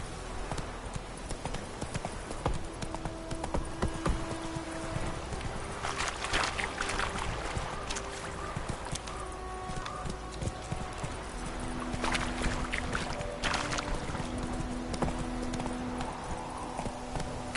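The horse Roach gallops in The Witcher III, with fast, steady hoofbeats that are loud and close and continue throughout, mixed with occasional whinnies and game ambience.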